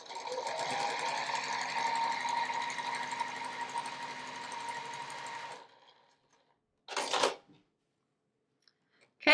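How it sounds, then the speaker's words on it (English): A sewing machine stitches a quarter-inch seam through quilt fabric pieces for a Friendship Star block, running in a steady rapid whir for several seconds, then stopping, followed by a short burst of handling noise. "place them right sides together, and sew a 1/4 inch seam"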